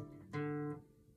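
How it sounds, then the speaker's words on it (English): Single guitar hammer-on, a quiet plucked note that jumps up to a brighter sustained pitch and rings briefly before fading, heard alone. "So hammer on sounds like this,"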